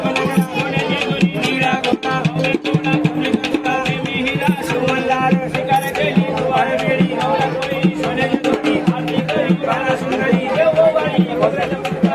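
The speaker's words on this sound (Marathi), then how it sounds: "खूप जास्तच गर्दी आहे मंदिर मध्ये" Loud, steady babble of a large crowd at the busy Khandoba temple fair in Satara, overlapping voices filling the space without pause.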